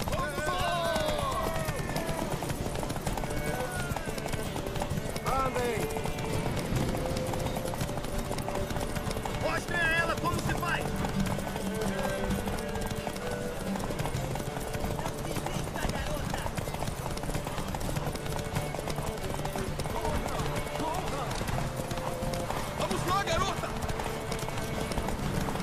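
Galloping horses race toward a tower in the video game The Witcher 3, with rapid, continuous hoofbeats thudding steadily throughout under music and voices talking.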